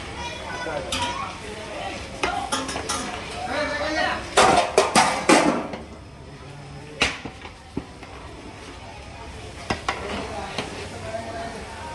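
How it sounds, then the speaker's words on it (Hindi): Hot ghee for a spice tempering (tadka) sizzles and crackles in a pan, with sharp bursts of spattering and clinking utensils while people talk nearby. "इसमें ये देसी घी का तड़का आ रहा है"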